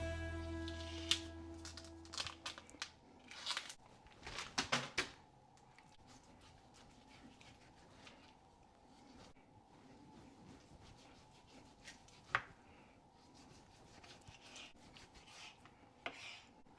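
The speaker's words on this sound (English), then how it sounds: "let's cut this up into some nice small cubes that'll fit in our grinder" A knife slicing bone-in pork butt into small cubes on a cutting board, producing quiet scraping and rasping strokes with occasional sharp knocks against the board, close and faint.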